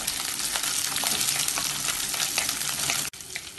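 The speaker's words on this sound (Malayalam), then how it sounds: "ഇതെല്ലാം കൂട ഇതിലേക്ക് ഇടാം ഇതിനി ഇളക്കി വഴറ്റാം" Garlic, green chillies and curry leaves, along with small onions, sautéing in oil in a pan for a Kerala chow chow curry: a dense, crackling sizzle close by, steady throughout, cut off sharply for a moment near the end.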